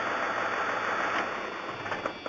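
A 1994 Dodge Ram 2500 engine runs steadily at idle, a constant broadband hum with a faint rattle and no voices.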